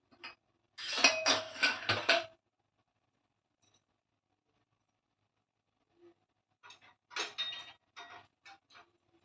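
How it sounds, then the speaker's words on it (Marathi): A pressure cooker holding cooked mixed dal being opened, two bursts of metallic clanks and lid rattles separated by a quiet pause, close and moderately loud, no talking. "कुकर उघडून घेऊया"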